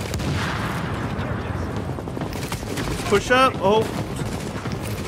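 Enemy gunfire in The Division rattles steadily under a man's speech, with dense bursts of shots and explosive booms throughout and a brief electronic warbling tone midway.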